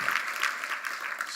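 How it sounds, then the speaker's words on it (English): Steady applause from a crowd at a political speech, continuous clapping at moderate volume throughout, with no pauses. "You ought to give your president a big round of applause."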